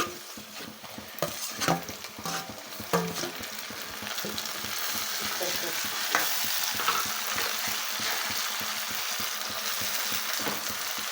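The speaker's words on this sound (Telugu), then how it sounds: "ఉల్లిపాయ చక్కగా వేగింది ఇప్పుడు మనం కట్ చేసుకున్న టమాటా అయితే వేసుకోవాలండి" Chopped tomato goes into onions frying in a pan for a village-style chicken curry, giving a steady sizzle with repeated scraping and stirring strokes close up. No voices.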